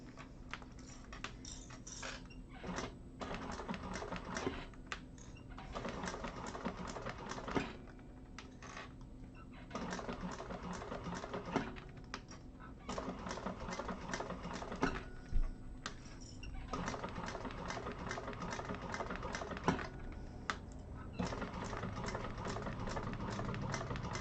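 A sewing machine stitches glitter vinyl for a vintage handbag, a quiet, steady rattling run of needle strokes broken by short pauses and restarts, fairly faint.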